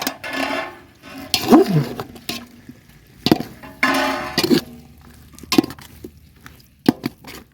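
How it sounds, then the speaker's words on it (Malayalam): Banana pieces are stirred into biryani masala in a pot, giving intermittent wet scraping and squelching strokes with metallic clinks of the spoon against the pot, close and moderately loud. "പഴം ഇട്ട് കൊടുത്തിട്ട് നന്നായിട്ടൊന്ന് ഇളക്കി കൊടുക്കാം"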